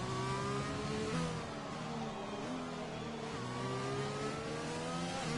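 Race car engine in a PS4 Formula-style racing game at the Netherlands track, droning steadily with rising harmonic pitch sweeps as it revs through gears, a continuous loud whine with no talk.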